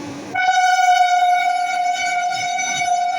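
India's first Vande Bharat sleeper express, running Howrah to Kamakhya, passes Chuchura, sounding a loud, sustained horn that cuts in abruptly and holds steady close by over a low rumble.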